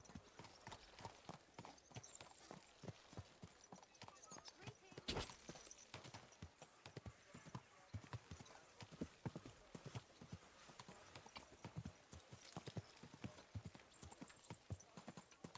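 Horse hooves clip-clop in a fast gallop in the video game Kingdom Come: Deliverance II, a rapid irregular drumming of hoofbeats at low overall volume with a brief louder thud in the middle.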